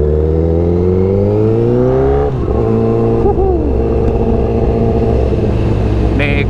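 A 2019 Honda CBR1000RR SP1 1000 cc motorcycle is ridden and revved, its engine note climbing steadily in pitch, then dropping as a gear is shifted before it pulls again, loud and close throughout.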